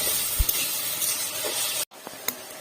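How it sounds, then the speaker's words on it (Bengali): New potatoes with turmeric and salt fry in hot oil in a wok, giving a steady, loud, dense sizzle with a few small pops. The sizzle breaks off sharply near the end, then resumes. "এবার আলুগুলো দিয়ে হলুদ লবণ দিয়ে আলুগুলো লাল লাল করে ভেজে নেব"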